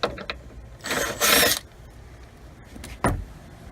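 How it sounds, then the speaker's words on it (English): Impact wrench spinning out metric 15 mm bolts while removing the third-row bench seat of a Ford Freestyle / Taurus X, heard as two close, loud mechanical bursts followed by a shorter third burst, with no talking. "So I'm using an impact to get these out of here"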